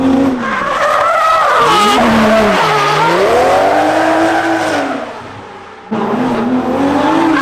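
An automatic Toyota A90 Supra drifts at a drift event, loud sustained tire squeal over a wailing engine whose pitch rises and falls, briefly dropping off before the screech snaps back.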